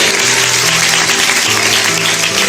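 An audience at a school stage performance about girls' education claps in a dense, continuous burst of applause, loud and close, lasting the whole moment.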